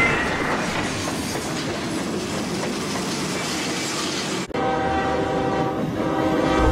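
A train rumbles past loudly with rattling wheels, then a steady horn blast cuts in and holds to the end.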